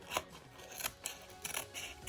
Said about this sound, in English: I'm going to take my scissors and I'm going to cut around the rippled edge